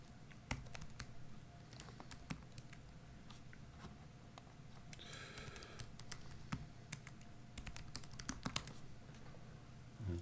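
Someone types a root password on a ThinkPad P51 laptop keyboard, giving short bursts of crisp, close key clicks with brief pauses between them.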